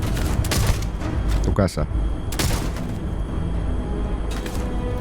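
Gunfire in the space-shooter game Starfield, several bursts of shots and booms crackling in the background while a person speaks briefly.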